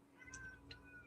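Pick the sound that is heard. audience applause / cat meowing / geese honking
cat meowing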